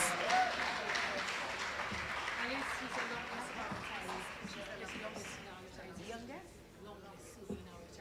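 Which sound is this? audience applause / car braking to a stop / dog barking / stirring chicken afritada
audience applause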